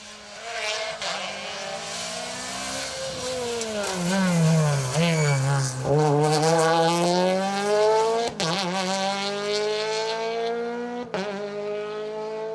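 A Peugeot 208 R2 rally car races through an asphalt stage, its engine screaming loudly as it rises and falls through gear changes, with a commentator's voice over the top.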